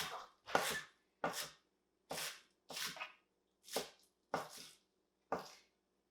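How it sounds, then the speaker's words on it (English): A knife slices through green onions on a cutting board in eight distinct, evenly spaced crisp chops, close and clear with quiet gaps between strokes. "you just want to slice your green onions up"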